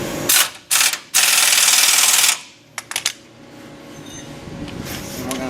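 A ratchet tightens the bottom bolt on a front bumper being installed on a 2015-17 Chevy Silverado 2500/3500. It gives close, rapid ratcheting bursts, one long run, then a few faint clicks and quiet.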